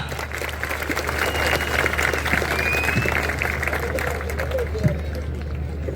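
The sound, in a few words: crowd applauding at a wrestling match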